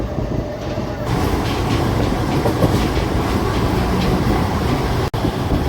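A DEMU passenger train on the Nandyala to Renigunta line runs at speed, filling the carriage with a loud, steady rumble and rhythmic wheel clatter, with voices faintly under it.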